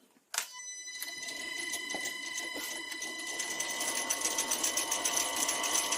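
Wood lathe spinning an oak piece on a screw chuck at about 400 RPM, starting with a sharp onset and then a steady whirring, ringing drone that grows slightly louder, close up, with no talking.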